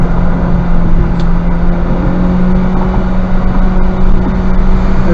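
A Honda Civic Type R accelerates at wide open throttle on a track day, its engine a loud, steady, close drone that holds throughout.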